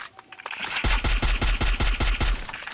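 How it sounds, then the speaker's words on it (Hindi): Rapid automatic gunfire from the Free Fire mobile battle royale game, a steady burst of about ten loud, evenly spaced shots following a few quieter pops, with no talking. "यहाँ से एक गोली मारी, वो फायर हुआ"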